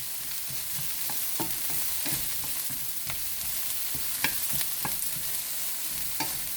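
Shrimp and eggs being stir fried in a wok, a steady low sizzle with scattered scraping stir strokes, fairly quiet and continuous without any talking.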